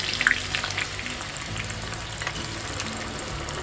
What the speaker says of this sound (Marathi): हा कांदा याच्यात टाकते आणि चांगला आपल्याला तो परतून घ्यायचा आहे, एकदम आता कडक होईपर्यंत.